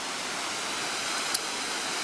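Steady broadband rush of a waterfall at Turning Point Park, heard close and loud, continuous with no voices over it.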